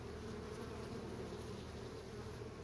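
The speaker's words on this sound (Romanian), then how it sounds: "stupul acesta este mare și mai vine câte o albină străină și este agățată" A steady, dense drone of many honeybees buzzing together at a hive, continuous and close, with no voices.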